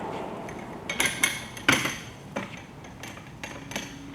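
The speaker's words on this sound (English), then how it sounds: "So let's just load it up with a roll of film here." A roll of stretch film being loaded onto a heavy-duty hand wrap dispenser, giving a few sharp clanks and clicks of metal parts, spaced irregularly, close by and with no talking.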